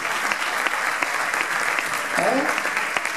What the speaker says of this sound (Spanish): Un aplauso del equipo MUR.